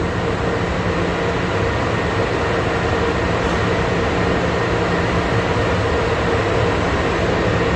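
A brush machine's motor hums steadily as the unit rises toward its black limit switch at maximum height, a loud, even mechanical drone with no talk.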